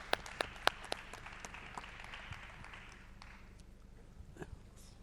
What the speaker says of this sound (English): I would like to join me for applauding the panelists.